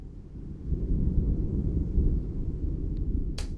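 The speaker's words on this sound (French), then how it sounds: "Il y a aussi un son d'orage ici." Thunderstorm ambience for a film, a low sustained rumble of distant thunder swelling and lingering with windy texture, ending with a brief sharp noise burst.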